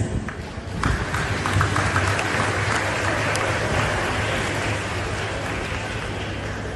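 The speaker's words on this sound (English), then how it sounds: "give a big round of applause for amazing teachers" Sustained applause from a graduation crowd, dense and steady clapping that swells after the first second and holds at a fairly loud level.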